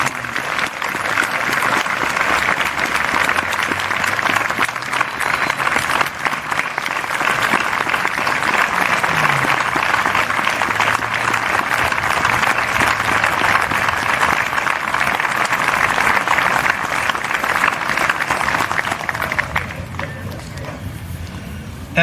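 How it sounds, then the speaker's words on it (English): Sustained applause from an outdoor Memorial Day ceremony crowd honoring veterans, steady dense clapping that carries on for about twenty seconds before tapering off at the end. "let's have one more round of applause for Major Nathan Blackwell"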